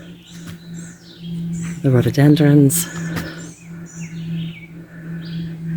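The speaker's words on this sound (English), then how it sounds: "Can you hear the birds?" Small birds chirp and tweet faintly in the background around a lakeside peninsula, with scattered short calls continuing under a man's nearby speech and a low steady hum.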